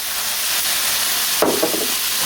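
Meatballs for tapas sizzle in a pan as it gets a big shake, a soft continuous frying hiss with a brief louder rattle and sizzle burst near the end.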